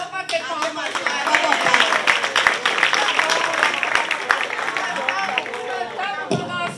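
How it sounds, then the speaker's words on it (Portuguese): Applause from an audience at a bank workers' women's meeting swells into dense, continuous clapping with crowd murmur and scattered voices, fairly loud and sustained for several seconds before tapering slightly near the end. "Acabou, vamos bater palmas lá."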